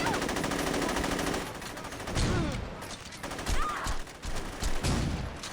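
Saints Row 2 gameplay erupts in sustained automatic gunfire, rapid rattling bursts that stop and restart several times, loud and close, with faint game sounds between volleys.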